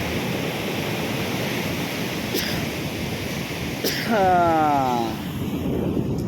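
Stormy sea waves breaking on Porbandar beach, a continuous loud surf roar with wind buffeting the microphone, and a brief rising whistle-like sound partway through.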